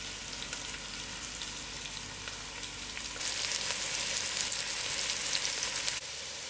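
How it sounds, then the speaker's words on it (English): Chopped onions sizzle in a pot for butternut soup, a steady close hiss that grows louder midway, then drops back as if the heat or lid changes. "my onions is frying out"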